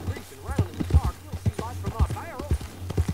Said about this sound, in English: I'm riding on a horse, full speed, faster than you can.